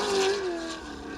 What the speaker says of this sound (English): Listen to that V8 singing.